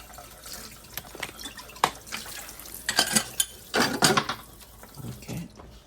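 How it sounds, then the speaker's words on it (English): Tap water running over hands at a kitchen sink, heard as uneven splashing and trickling bursts that rise and fall, growing stronger in the second half before tapering off. "let's wash my hands."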